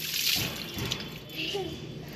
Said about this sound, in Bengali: মাথা দিয়ে ঢালো, ঢালো আস্তে আস্তে